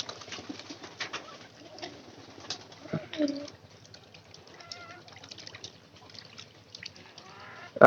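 Domestic pigeons coo softly in a loft, low repeated throaty calls with some wing flutters and scattered bird noises.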